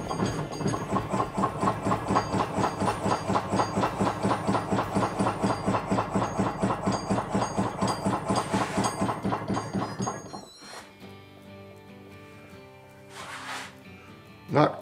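Wood lathe spinning an off-center blank at 250 RPM, producing a loud rhythmic thumping wobble from the imbalance, about four beats per second, that runs for ten seconds before cutting out, followed by quiet room noise and a brief sound.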